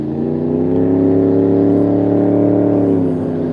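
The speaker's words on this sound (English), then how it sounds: "That sounds like a truck with no exhaust." Loud vehicle engine roar from a truck with no exhaust passing near a lake at night, a steady harmonic drone swelling and fading slightly over a few seconds, with no talking.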